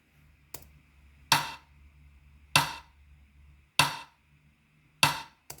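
Four sharp clap samples with no EQ land at an even, slow pace, each a crisp snap with a short decay, close and dry, with a soft low hum between hits.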